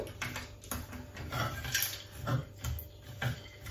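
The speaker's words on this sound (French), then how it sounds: "je vais pouvoir maintenant mélanger avec ma spatule double embout" Peanuts are stirred into a small batch of caramel with a double-ended spatula, giving close, steady scraping and knocking strokes against the pan, repeated about once a second with no talking.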